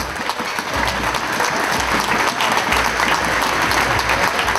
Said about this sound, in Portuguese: peço uma grande salva de palmas para estas pessoas que muito trabalham